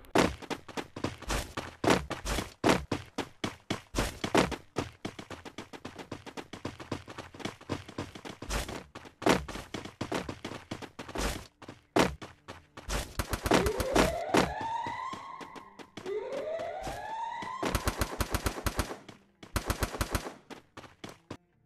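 Free Fire mobile gameplay on a Samsung Galaxy A32 is full of sharp, rapid gunshots in quick bursts, with rising siren-like whooshing effects partway through, loud and without talk.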